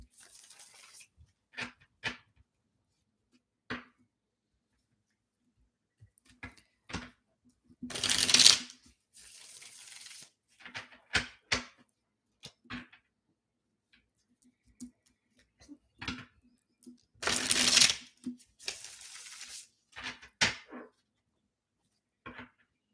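Tarot cards are shuffled in short, crisp riffling bursts separated by quiet gaps, close and fairly soft, with a couple of louder, longer shuffles.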